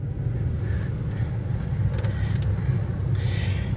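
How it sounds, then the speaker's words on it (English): Air conditioning blows inside a 1997 Cougar XR-7 with a V8, a steady broadband whoosh and low rumble that holds evenly throughout, with a few faint clicks and no talking. "let me get some AC blowing"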